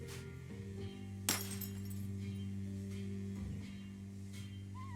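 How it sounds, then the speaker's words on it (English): A diamond scraping and cracking glass in the Leisure Suit Larry video game, one sharp crack and clink rising over a steady background music drone, with faint scraping after it. "If you want to cut plastic glass, you need a plastic diamond."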